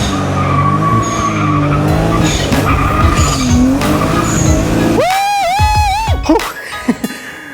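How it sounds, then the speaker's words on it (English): A BMW E30 fitted with an N54 engine roars close and loud through a burnout, its engine revving hard and rising in pitch before the tires break into a long squeal that fades out. "Let's try a quick little burnout here."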